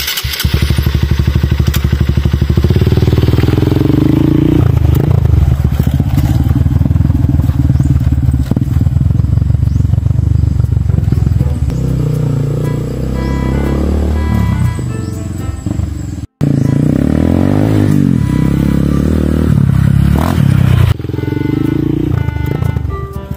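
A motorcycle engine roars loud and close for about twenty-three seconds, with rough clattering and thumping and one sharp momentary dropout past the midpoint.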